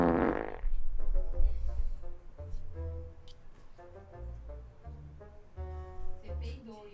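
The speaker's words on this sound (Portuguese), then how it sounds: "Você peidou" A person breaks wind during a Rainbow Six gaming session among friends: low, rumbling, sputtering bursts that repeat in several short stretches at fairly close range, mixed with faint background sounds.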